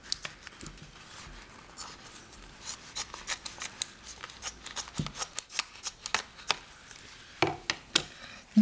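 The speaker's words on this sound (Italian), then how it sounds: "Ritagliate il guanto in lattice a questa misura, più o meno," Scissors snip through a latex glove in a quick run of close, crisp cuts, with small rustles between the snips and no talking.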